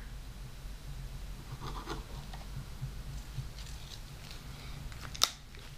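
A Sharpie marker marks a length on a model aircraft wing part with faint, brief scratchy rubbing strokes over a quiet background, ending in a single sharp tap.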